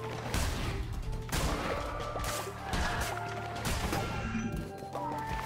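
Gunfire in the video game Cult of the Lamb comes as several sharp, loud bursts spread through the stretch, set against a steady bed of game music and effects.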